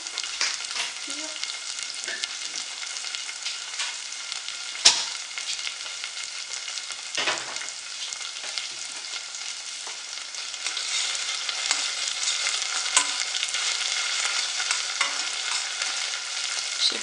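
Ingredients for Turkish lentil soup frying in a pot, a loud, even crackling sizzle running throughout with a couple of sharp utensil knocks against the pot.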